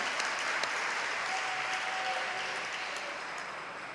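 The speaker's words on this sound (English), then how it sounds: "Let's give them a round of applause." Applause from an audience at an awards ceremony, a dense, even wash of many hands clapping at moderate volume that tapers slightly toward the end.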